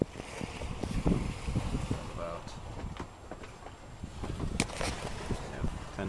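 Steady wind rushes across the microphone aboard an Ericson 28 sailboat running south in about 10 knots of wind with following seas, mixed with water wash and scattered knocks, and soft voices faintly in the background.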